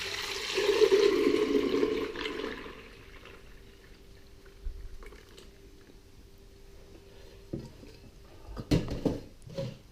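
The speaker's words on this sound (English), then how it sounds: "pour all the mixture straight in" Lemon meringue gelato mixture poured into an ice cream machine: a liquid pour fills the first few seconds, then gives way to quiet handling sounds and a few sharp knocks and clatters at the end.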